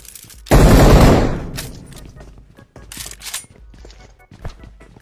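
Gunfire in a shooter video game, opening with a loud, close burst that lasts about a second, then fading into scattered shorter shots and thuds over quieter background.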